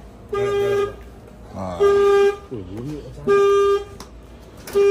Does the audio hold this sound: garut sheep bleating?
no